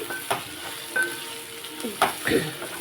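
Oil fries in a pan as a cook stirs, with a low steady sizzle broken by several distinct scraping strokes of a spatula against the metal, and a faint voice in the background.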